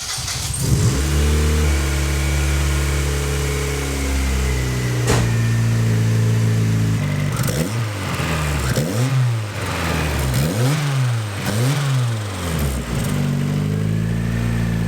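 A turbocharged Mazda Miata engine fitted with a custom downpipe for an eBay T3/T4 turbo starts and idles loudly, then revs in several sharp rising and falling bursts, close by with no talking.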